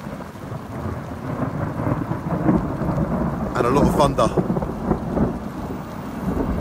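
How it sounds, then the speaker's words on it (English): Thunder rumbling through a thunderstorm with steady rain, a loud crack-like burst midway over continuous rainfall, while someone talks over it. "thunder and lightning, ladies and gentlemen."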